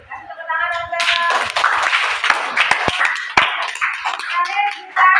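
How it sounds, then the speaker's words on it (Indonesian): A classroom of students claps in a short burst of applause, fairly close and lively, with a voice speaking over the start and end. "Kasih tepuk tangan dong, guys."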